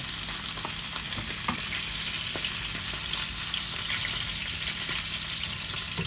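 A steady, gentle sizzle of curry made with eggplant, potato and surma fish frying in a pan, with occasional soft stirring scrapes, continuous and fairly quiet throughout.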